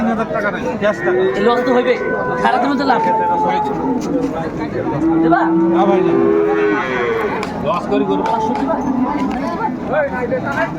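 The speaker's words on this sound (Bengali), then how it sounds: "এই দেখ গরু তো গরু" Cows moo repeatedly, long drawn-out lowing calls close by at a cattle market in Jessore, Bangladesh, with people talking and chattering in the background.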